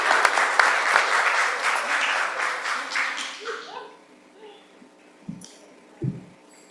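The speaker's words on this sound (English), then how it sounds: "we would love to give a big round of applause to your families" Applause at a school board meeting for players' families, a dense round of clapping that fades out after about three seconds, followed by a few scattered knocks and faint room noise.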